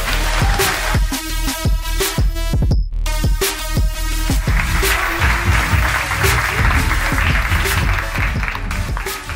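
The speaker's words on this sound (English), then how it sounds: "please give a big round of applause for Jamin Hegeman" Conference audience clapping to welcome service designer Jamin Hegeman to the stage, loud and continuous, with music playing underneath and a brief dropout partway through before the applause carries on.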